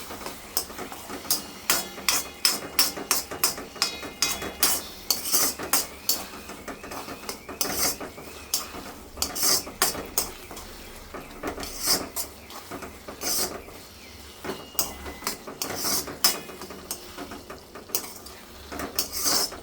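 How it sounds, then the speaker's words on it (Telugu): Gongura curry stirred in a pot, a long run of rapid metallic clinks and scrapes from a spoon against the pot, close and steady throughout. "ఒక్కసారి దీన్ని బాగా కలుపుకొని అడుగు అంటకుండా ఒకసారి బాగా కలుపుకోవాలి"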